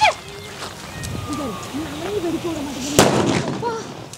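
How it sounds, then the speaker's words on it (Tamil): A single sharp Lakshmi firecracker bang cracks out partway through, loud and close, after a stretch of outdoor background with a voice talking, during Diwali. "அடுத்த லட்சுமி வெடி."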